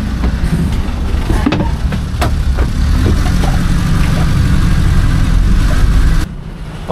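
An angkot minibus idles in Cirebon with a steady low engine rumble that holds close and even for about six seconds, then drops to a quieter hum near the end.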